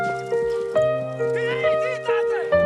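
Horse neighing and galloping as a rider charges in a dramatic film scene, set against a loud, sustained orchestral score, with whinny-like calls rising over the music midway.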